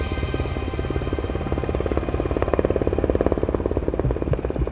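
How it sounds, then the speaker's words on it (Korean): A special forces military helicopter in flight, a steady, loud rotor drone with rapid blade thumping that grows slightly stronger midway and continues throughout. "그럼에도 불구하고 특전사 헬기가 서울로 일단 계속 진입을 합니다"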